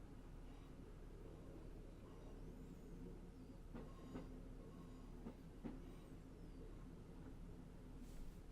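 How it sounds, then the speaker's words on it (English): A train in Train Simulator 2019 slowing for a 15 mph speed restriction while changing tracks, rolling with a low steady rumble and a few soft clicks of wheels over rail joints, quiet and continuous. "Just going to slow the train down to an upcoming 15 mph speed restriction"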